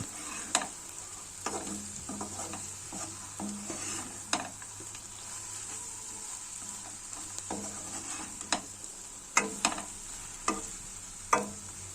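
Spoon stirring prawn curry in a pan, scattered scraping knocks against the metal over a steady soft sizzle, close and moderately quiet with no talk.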